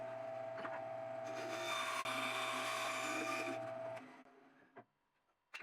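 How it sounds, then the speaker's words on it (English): A bandsaw makes a steady whining cut through wood while shaping parts for a dog bowl holder. The cut runs loud and continuous for about four seconds, then stops, and a few faint clicks and knocks follow. "bring it over to the bandsaw, make a relief cut in the center, then cut the 2 remaining halves free."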